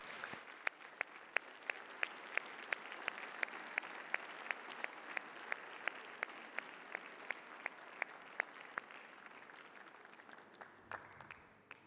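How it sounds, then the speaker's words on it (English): Warm, sustained applause fills a hall at a graduation awards ceremony, a soft continuous wash of many clapping hands with a few sharp, close claps standing out in a regular beat, lasting about twelve seconds. "a very warm round of applause"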